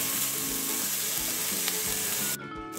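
Bacon lardons fry in a pan with a loud, steady sizzle and crackle up close, then the sizzle drops briefly near the end.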